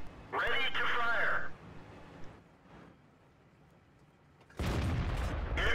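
Tank cannon fire in the World of Tanks video game: a loud blast at the start, then quieter game ambience, and another heavy burst at the end, with commentary voice over parts.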